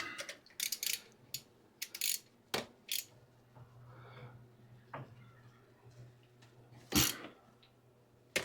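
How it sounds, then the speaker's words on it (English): A ratchet wrench works a bolt loose on a vintage vehicle's rear spring assembly, giving irregular bursts of sharp clicking with pauses between, fairly close and moderately loud, over a low steady hum. "I think it's going to be prudent to pull the bolt and clean it."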